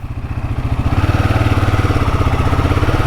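Royal Enfield Himalayan 450 motorcycle engine thumping steadily as the bike sets off on a short ride after a fresh service, a loud, close, rhythmic single-cylinder pulse that rises slightly and holds, with no talking.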